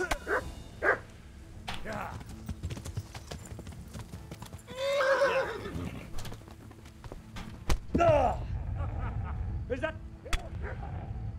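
A horse in Kingdom Come: Deliverance whinnies loudly over steady hoof clip-clops, with a dog barking briefly and rumbling game noise throughout.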